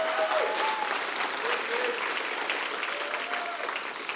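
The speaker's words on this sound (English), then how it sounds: "Let's give him a big round of applause." A studio audience at a real estate and financial freedom talk applauds, a full, even wash of clapping that holds steady throughout at a moderate level, with faint crowd murmur mixed in.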